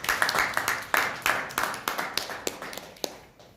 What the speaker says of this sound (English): everybody to welcome him with a big round of applause